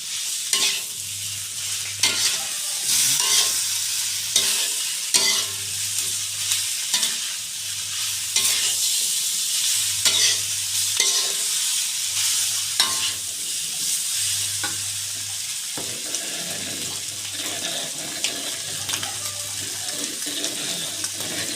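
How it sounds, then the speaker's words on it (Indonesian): Minced beef fries with spices and tofu for a balado dish, giving a steady sizzle while a utensil scrapes and stirs through the pan in repeated strokes, close up with no talk. "Kita masukkan cincang daging. Kita aduk biar merata"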